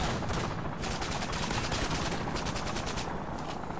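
Rapid automatic gunfire in the video game Call of Duty: Modern Warfare 2, a dense, sustained burst of shots with a steady rattling rhythm and no talking.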